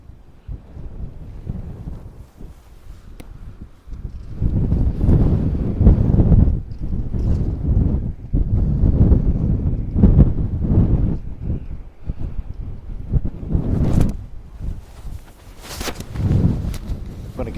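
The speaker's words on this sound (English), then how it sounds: "Hear the wind." Winter wind gusting along the Wildwood boardwalk at Cape May, rumbling loudly in surges that rise and fall, with faint footsteps and distant activity beneath.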